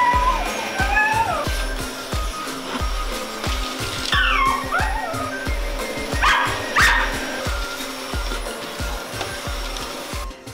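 A dog barks repeatedly in short sharp bursts, loud and close, over the steady drone of a running vacuum cleaner indoors.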